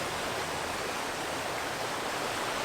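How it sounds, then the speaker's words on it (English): A small river runs through the town of Coldwater, its broadband rushing wash steady and close, with no talk over it. "Nice little river running through the town"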